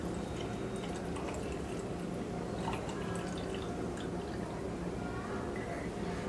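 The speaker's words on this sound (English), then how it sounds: "We're going to pour some of our water here into the hydrometer." Water poured into a hydrometer at a children's museum density demonstration, a steady trickling and dripping pour running through the whole span under a constant background hum, fairly quiet and close.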